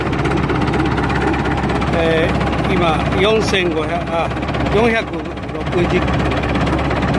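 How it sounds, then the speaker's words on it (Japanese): Yanmar 4LH four-cylinder 3500cc turbo marine diesel engine cranks and runs with a steady low droning rumble throughout, close and loud, with someone speaking over it. "3500cc の、連続が110馬力、最大が135馬力の4気筒のヤンマーのよく出てるエンジンです。"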